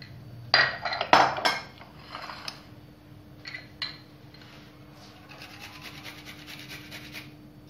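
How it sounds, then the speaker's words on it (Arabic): Garlic grated by hand for a fish dish, giving a few sharp, close scraping rasps early on, then softer scattered scrapes and a faint metallic rubbing over a low background hum. "ثوم غادي نحكوه"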